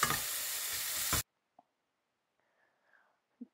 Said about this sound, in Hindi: टोमेटो प्यूरी अब डल रही है